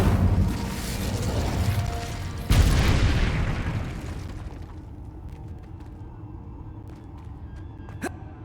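A burst of roaring fire from the Incendio spell in Hogwarts Legacy, a loud whooshing blast that swells, hits a sharp peak partway through, then fades into quieter clicks and small crackles.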